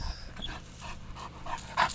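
A large livestock guardian dog puppy pants close by in quick, rhythmic breaths, fairly soft, with a slight whimper near the end.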